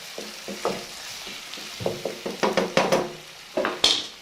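Minced meat and chopped bell peppers fry in a pan, with a steady sizzle under repeated scraping and clattering stirs that grow busier toward the end.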